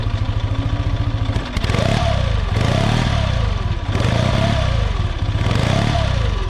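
A 1957 Triumph TRW Mark 2B motorcycle engine idles with a fast steady putter, then is revved repeatedly in loud rising-and-falling surges, close and alone.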